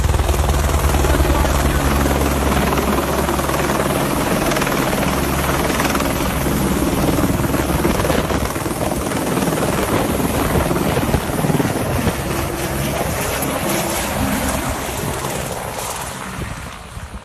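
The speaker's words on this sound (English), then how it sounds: "This helicopter dropping off concrete in a rush." Helicopter hovering while dropping off concrete, a loud, continuous rotor roar with heavy wind buffeting on the microphone, steady throughout and fading slightly at the end.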